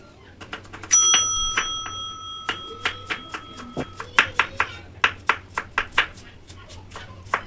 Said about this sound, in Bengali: দেখুন এইরকম আমি ছোট ছোট করে গুঁড়ো গুঁড়ো করে কেটে নেব।